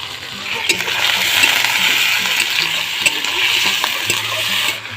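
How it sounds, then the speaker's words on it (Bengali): Meat frying in a pan with cumin, turmeric and chilli as it is stirred, giving a steady sizzle with scraping and clinking of the spoon against the pan, close and continuous. "এবার আমি মাংসটা দিয়ে দেবো।"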